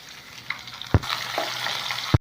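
Chopped green chillies sizzle in hot ghee alongside cumin and ginger, a close crackling fry broken by a couple of sharp stirring knocks.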